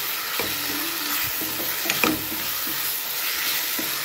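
Chicken being mixed with salt in a pan for chicken chukka, with a soft sizzle under intermittent scraping and stirring strokes, fairly quiet and close, with no talking.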